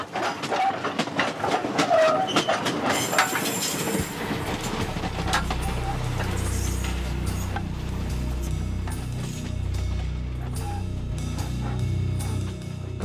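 A train rolls along rails in Congo, with steady clickety-clack wheel rhythm and rattling carriages heard up close, preceded by sharp clattering knocks and metallic creaks.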